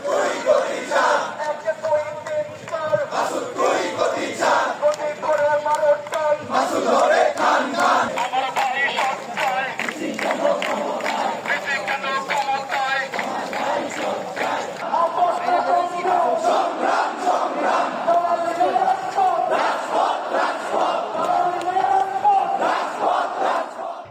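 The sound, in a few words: students chanting protest slogans against the vice-chancellor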